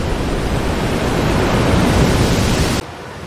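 A broad, roaring rush of tsunami water surges back over flooded streets, loud and continuous, then cuts off abruptly near the end.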